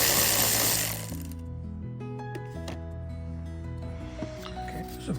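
A power tool whirs and steps through changing pitches up close while loosening 10 mm bolts on the air filter box of a 2005 Lexus ES 330/300, steady and moderately loud without talk.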